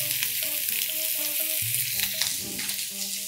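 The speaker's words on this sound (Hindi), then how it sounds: "अभी गरम तेल में प्याज" Onions crackle and sizzle in hot oil in a pan, a steady close frying hiss with light spatter and faint scraping, heard alone without speech.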